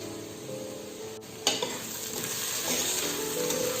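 Garam masala, turmeric and salt being stirred into vegetable biryani in a pressure cooker pan: a steady, close sizzle with scraping stirs and a sharp clink partway through.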